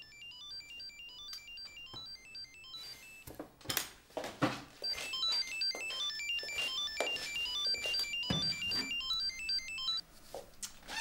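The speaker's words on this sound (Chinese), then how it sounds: "电话响怎么不接呀？" A phone rings indoors with a repeating electronic ringtone melody, steady and fairly loud, while clattering dishes and cutlery and other household knocks sound around it.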